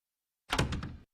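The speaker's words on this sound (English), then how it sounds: "Cleveland, slam the door." A door slams shut in a cartoon house, one loud heavy thud with a short rattling tail, heard alone and close.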